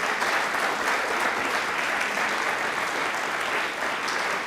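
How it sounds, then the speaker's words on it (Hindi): An audience bursts into loud, steady applause, a dense wash of clapping that continues unbroken throughout, with no talk heard over it. "तो इन जो दोनों महाकाव्य हैं उनके लिए भी ताली बजा दीजिए एक बार जोरदार"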